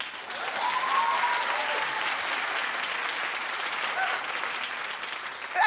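A studio audience on a daytime talk show applauds steadily, loud dense clapping with faint cheers throughout, no voices over it.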